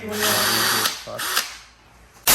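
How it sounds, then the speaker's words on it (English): A power drill bores into a plastic car bumper for fog light openings, a Q50-style bumper being fitted to an Infiniti G37 coupe; the drilling is loud and close, running in steady bursts with short pauses. "Even for the fog lights and stuff, it just has to be drilled and cut."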